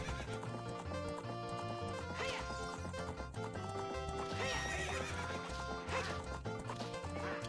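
Horse in the video game Ocarina of Time on Switch neighing and whinnying over rhythmic galloping hoofbeats, set against loud game music throughout.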